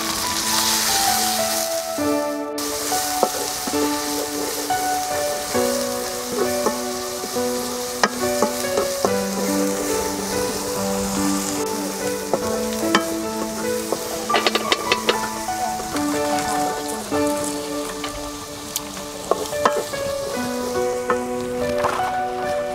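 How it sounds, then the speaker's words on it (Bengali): Shrimp frying in hot oil with onions in a village kitchen, a loud continuous sizzle with stirring scrapes and crackles running throughout, no talking. "এই বাজে তেলের ভিতরে চিংড়ি মাছটা ভাজলে অনেক সুন্দর ঘেরান পায়।"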